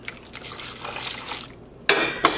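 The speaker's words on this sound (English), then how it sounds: "I'm gonna add Lindsay's yarn into the dye bath, and we can add more water on it as well" Water is poured into a yarn dye bath in a pot, splashing and trickling close by, with a couple of sharper gushes near the end.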